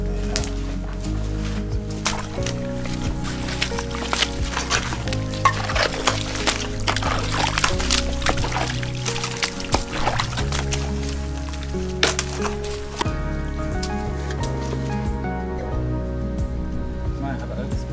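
Rainwater rushes through broken-open dams at a Portuguese farmhouse during a downpour, a steady pouring, splashing gush that runs continuously and close, with someone talking over much of it.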